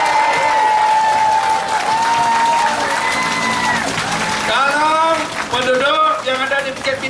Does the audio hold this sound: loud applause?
yes